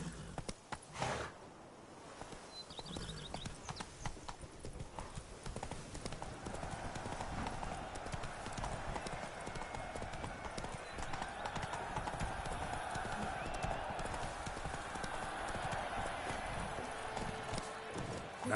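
Roach the horse gallops in a PS4 video game, its hooves beating a quick, even clip-clop that stays close and continuous for nearly twenty seconds, with no other voices over it.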